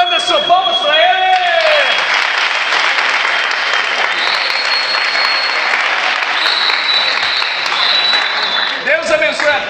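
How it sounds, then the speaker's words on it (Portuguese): A crowd applauds a raffle winner at a charity draw, with loud, sustained clapping that lasts several seconds and a voice speaking over the start and the end. "Anderson, palmas pra ele."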